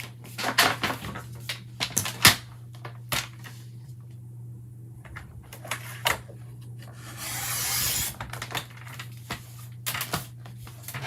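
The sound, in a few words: trimming the end of a paper card front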